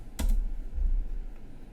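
Quick bursts of keystrokes on a Mac computer keyboard as a search term is typed, close and clear against a quiet room.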